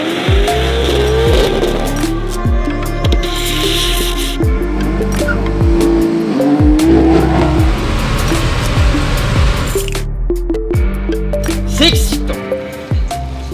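A drift car at a French Drift Championship round at Val d'Argenton sweeps through a run, its engine rising and falling in repeated revs under long, loud tire squeal.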